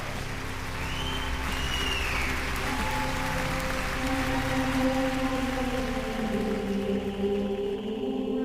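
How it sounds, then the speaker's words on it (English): A theater audience at a magic awards show applauds a volunteer with sustained, even clapping, while tonal music plays underneath. "Everyone's going to give you a nice round of applause."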